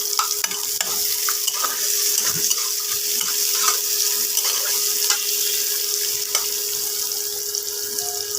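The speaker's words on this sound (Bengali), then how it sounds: "এবার দেবো কুচানো পেঁয়াজ" Chopped onions frying in hot oil in a wok (kadai), giving a steady bright sizzle and hiss with occasional soft stirring clicks throughout, no voices.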